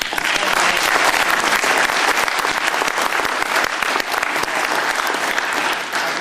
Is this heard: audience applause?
yes